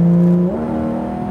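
A Porsche GT3 RS engine pulls hard on track, a loud, close, steady mechanical drone that shifts pitch partway through and then holds its note.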